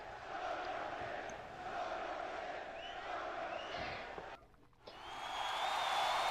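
Crowd hollering at a Second Life wrestling show, a dense, continuous roar of shouting voices that drops briefly before swelling back up.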